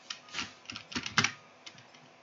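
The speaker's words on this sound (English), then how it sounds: "This keyboard is quite loud" A loud computer keyboard clattering in quick uneven bursts of keystrokes close by, fading to a few sparse taps toward the end, with no voice.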